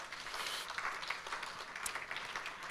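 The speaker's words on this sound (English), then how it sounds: "please give them another round of applause" Audience applause for award winners at the Tauranga Business Awards 2021, a steady wash of many hands clapping at moderate distance, fairly quiet and continuous without any voices.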